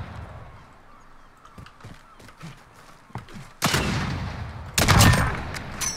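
A sniper rifle shot in Call of Duty Modern Warfare comes as a loud burst partway through, followed by a second loud crack. Quieter scattered game noises come before the shots, and no one talks.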